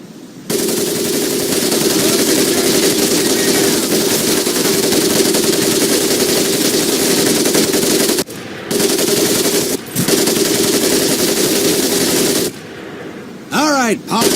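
A machine gun in the Medal of Honor: Pacific Assault video game fires long sustained bursts, loud and close, broken by short pauses, with game voices faintly heard near the end.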